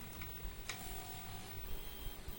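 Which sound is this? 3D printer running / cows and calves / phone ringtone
3D printer running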